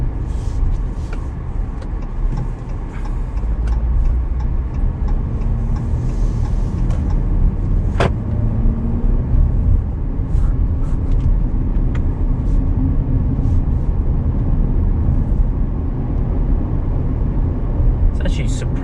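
Cabin of a 2019 Jeep Cherokee Trailhawk on the move, a steady close road and engine rumble with tyre roar filling the space, plus a few faint clicks and knocks.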